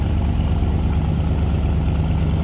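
A 1958 Chevrolet Apache pickup with a 5.7-liter crate V8 and aluminum heads idles steadily from behind the truck, a deep, even rumble with no voices over it.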